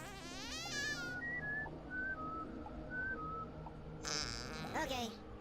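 Whistled melodic notes from a character in Oddworld: New 'n' Tasty, a rising-and-falling run of several short tones over steady game ambience, followed by a burst of noisy game sound near the end.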